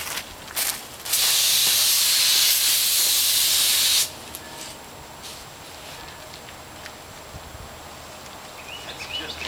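A spray gun applies Pettit Black Widow bottom paint over the barrier-coated strakes of a boat hull, a loud steady hiss lasting about three seconds close up, then quiet surroundings with faint scattered noises.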